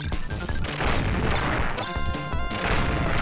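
Rapid bursts of sci-fi laser shots from the video game Contra: Hard Corps ring out over a loud, dense game soundtrack of crashes and music, continuous and busy throughout.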